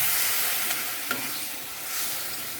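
Water poured into frying spice paste for a chicken ball curry sets off a steady, hissing sizzle as it is stirred, loud and close throughout, with only faint utensil scrapes.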